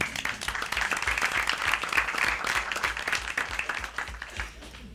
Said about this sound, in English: so they should get an extra round of applause for that